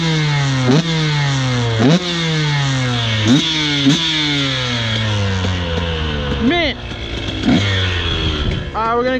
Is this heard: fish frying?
no